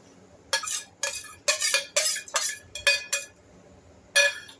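A spoon stirring vermicelli through boiling milk for quick kheer, scraping and clinking against the pot in a run of short, close metallic bursts with brief pauses, and no talk.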